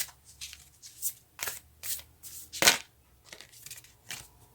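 Moonology oracle cards shuffled close up in a quiet room, a run of crisp papery riffles and slides in irregular bursts, with one sharper, louder flick partway through.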